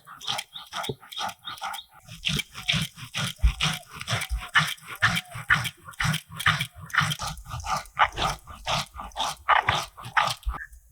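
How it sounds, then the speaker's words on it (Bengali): Boiled rice ground by hand on a stone grinding slab, a steady rhythmic rasping scrape repeating back and forth about twice a second, close and fairly loud with no voices. "আমি এখানে সিদ্ধ চাল শিলনোড়াতে বেটে দিচ্ছি"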